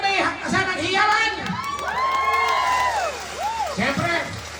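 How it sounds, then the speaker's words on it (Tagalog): A crowd at a Filipino evening show cheers and shouts steadily with whoops, loud and close, beneath an emcee's amplified voice. "Palakpakan na may kasamang hiyawan!"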